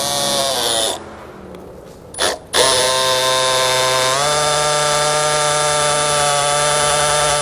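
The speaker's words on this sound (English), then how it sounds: "just going to take a 3/8 drill bit, we're going to go through and we're going to drill out each one of these holes" A 3/8 drill bit bores out base plate holes on a 2016 Buick Envision, producing a loud, high, whining drill tone that dips and stops briefly and then resumes steadily and close.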